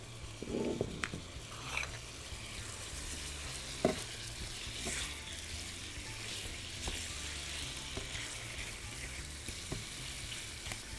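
Food sizzles steadily in a pan, a constant close crackle with occasional clinks and stirring scrapes, no talking.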